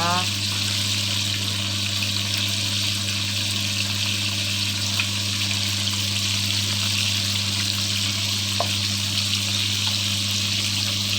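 Catfish sizzles and crackles steadily in hot salted oil throughout, close up, over a constant low electrical hum.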